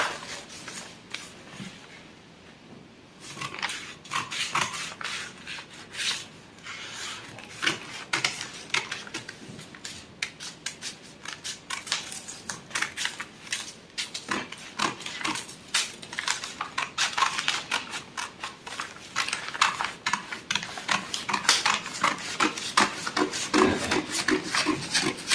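Scissors snip steadily through paper while a six-piece skirt pattern is cut out, a close, continuous run of crisp rasping cuts that grows busier and louder toward the end.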